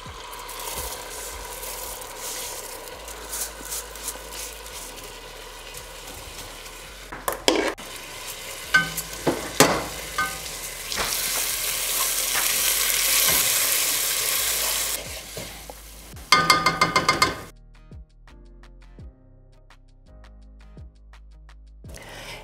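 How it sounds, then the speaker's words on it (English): Basmati rice toasts and is stirred in a pot, dry scraping and light sizzling that swell into a dense hiss, then a few clattering spoon knocks before things fall quiet. "We're going to toast our basmati rice until it's very nutty."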